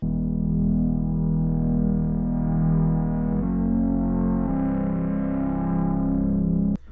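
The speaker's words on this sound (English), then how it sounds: "That chord sound, we're going to break it down later in this video." A rich, buzzy synthesizer chord holds steadily, shifting to new chords twice, sustained loudly without voices before cutting off abruptly.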